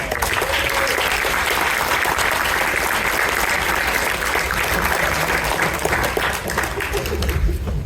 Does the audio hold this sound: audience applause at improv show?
yes